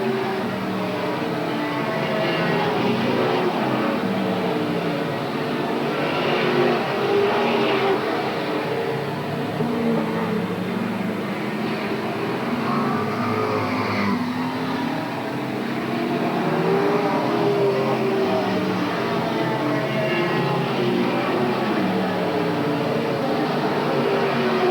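Race cars circle the track at Willamette Speedway in a steady, distant roar that swells and fades as the field passes, with no clear voices over it.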